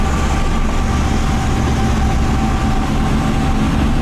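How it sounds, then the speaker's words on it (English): Steady, loud low rumble inside a BMW M3 on the highway at about 3,000 RPM, with engine drone and road and truck noise filling the cabin continuously, no talking. "A lot of trucks, loud noises"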